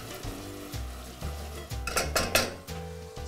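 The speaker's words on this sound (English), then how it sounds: "now that we have our onions sweating nicely" Onions sweat in a pan with a soft sizzle, under repeated clinks and scrapes of a utensil stirring against the cookware.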